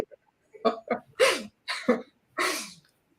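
A series of sharp, breathy sneezes and catches of breath, several short bursts in quick succession with brief silences between them.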